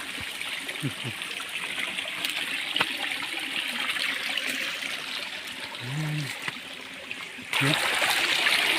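Steady broadband rush of water flowing at a waterfall, continuous throughout and growing louder near the end, with faint voices in the background.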